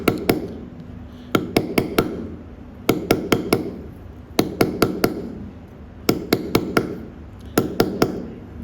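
Chisel driven by a mallet into stone while cutting letters: quick clusters of three to five sharp, ringing strikes, separated by short pauses, close and fairly loud with no talk.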